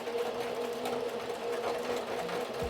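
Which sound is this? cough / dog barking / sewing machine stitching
sewing machine stitching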